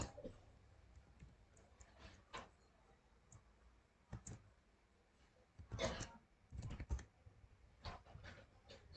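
A password being typed on a computer keyboard, quiet scattered key taps and a few firmer presses in irregular bursts, close but faint, with no talking.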